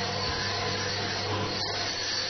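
A luminous cup of jade-like stone is polished on a grinding wheel, giving a steady, close, dense hiss and rasp of abrasion that runs unbroken and fairly quiet throughout.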